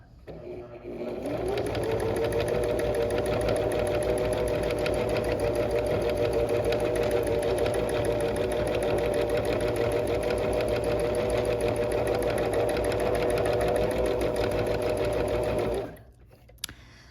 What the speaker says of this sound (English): So I'll just sew for a little bit.